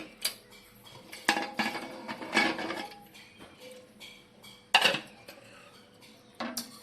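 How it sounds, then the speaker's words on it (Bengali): A metal lid is lifted off a pot in which an eggless mango cake has been cooking on a low stovetop flame, with sharp clinks and clatters of metal on metal scattered across several seconds. "এবার আমরা ঢাকনা খুলে দেখে নেব।"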